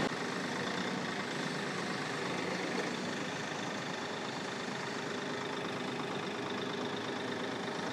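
A Kioti tractor engine runs at a steady idle at an equipment expo, a continuous low mechanical rumble with an even drone, close and moderately loud, with no talking over it.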